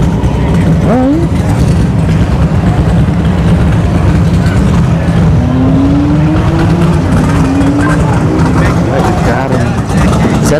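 A Chevelle donk drag car runs at a dragstrip test-and-tune session, its engine a loud continuous roar with rising pitch sweeps as it accelerates, over steady crowd and track noise with voices nearby.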